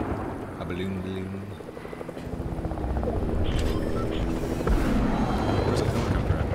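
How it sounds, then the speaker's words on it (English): A helicopter in the Fortnite video game whirs continuously through a busy mix of other game sounds and tonal effects, growing louder and denser in the second half. "Where's the helicopter at?"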